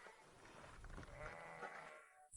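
Sheep bleat loudly and continuously at close range on a farm, a drawn-out wavering cry that fills the moment with no voices present.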